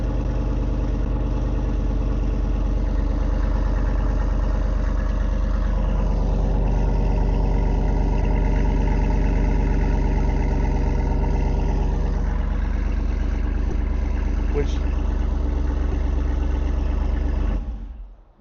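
Jeep with a Hemi engine and performance sport exhaust idling steadily with a deep low rumble, close and continuous for many seconds before cutting off, no voices.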